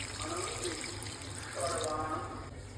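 Water is poured into chicken that has been browned in a pan for a home-cooked curry, making a steady splashing pour that runs for a few seconds, fairly close, with no talking.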